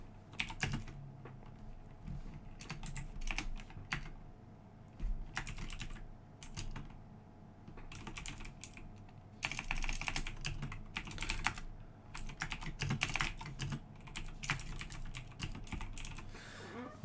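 Rapid typing on a computer keyboard during a math lesson, with dense bursts of clicking keystrokes separated by short pauses, close and fairly quiet.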